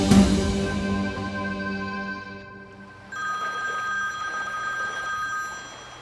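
A telephone bell rings in a Pakistani TV drama household scene, its repeated electronic ring loud and clear, breaking off briefly before resuming with a slightly different tone.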